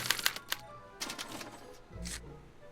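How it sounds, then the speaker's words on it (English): Mechanical clacking from a special typewriter punching a card in the Back to the Future adventure game: a burst of quick sharp clicks, then a pause and a softer whirring thump near the end. "they're relayed to this special typewriter, which prints out a punch card that represents the subject's mind map"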